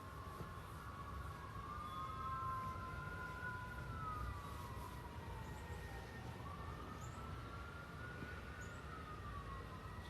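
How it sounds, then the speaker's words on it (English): A wailing siren rises and falls steadily over continuous loud background rumble, sounding somewhat distant. "Cue the sirens."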